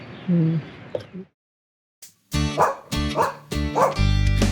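A dog barks loudly several times in a row at close range after a brief burst of other sound and a short silence, each bark sharp and punchy.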